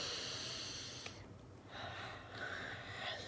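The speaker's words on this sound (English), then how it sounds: "Let's breathe into it now." A person breathes in slowly and audibly during a relaxation exercise, a soft airy inhale that follows a brief sharp sniff and sits over faint steady background hiss.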